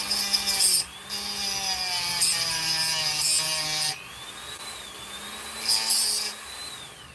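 Abrasive scuffing on the ends of reclaimed lithium battery cells, prepping them for spot welding: a loud, steady whirring grind with rising and falling pitch, broken by two brief pauses, and no talk.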